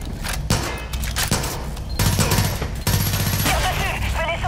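Repeated gunfire in the video game Far Cry 5: dense bursts of automatic shots and fusillades run almost continuously and loud, with a brief gap near the two-second mark, under game music and voices.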